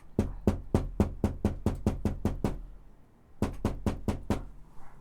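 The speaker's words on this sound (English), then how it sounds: "He knock on the door." Rapid, sharp knocks on a door in two bursts: a long run of about ten evenly spaced raps, a brief pause, then another quick series of four or five, loud and close, with no talking.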